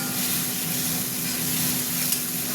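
Ginger-garlic paste, chili, turmeric, cumin and coriander powder and salt fry in a pan for omelette curry, a steady close sizzle that holds evenly throughout with no talking.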